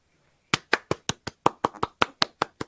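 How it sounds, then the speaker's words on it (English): About a dozen crisp, evenly spaced claps from a single person or small group, starting after a brief pause, close and distinct with sharp separate strikes and no voices. "Round of applause."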